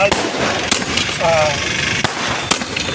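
Firecrackers burst at a street celebration by TDP supporters in Toopran town, Telangana: a handful of sharp, loud bangs spaced irregularly over a lively crowd with people talking.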